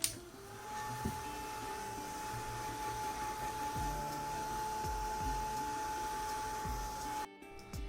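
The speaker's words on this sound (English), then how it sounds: "Now I need to have my heat gun to dry this up so that we can move on to the next step." A heat gun drying decoupage work on an MDF Buddha piece blows a continuous, fairly loud whirring hiss with a steady tone, running unbroken for about seven seconds before cutting off abruptly.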